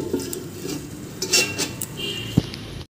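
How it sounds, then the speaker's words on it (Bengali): A lid is set on a cooking pot of potatoes simmering in water for an ilish fish curry with aloo and begun, giving a few light metallic clinks and one sharp clank near the end, close and fairly soft. "এবার আমি একটু ঢাকা চাপা দিয়ে দেব"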